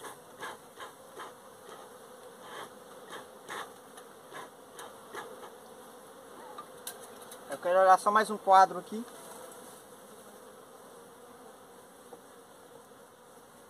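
Honey bees buzz around an open beehive during a honey-flow inspection, a steady close drone with a louder burst midway, while a person speaks briefly over it.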